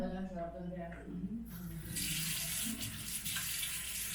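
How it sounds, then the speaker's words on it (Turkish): Hands washed under a running kitchen tap, a steady close splash and hiss of water that swells louder midway, with background household voices and talk heard over it. "Ellerimi bir yıkayayım güzelce."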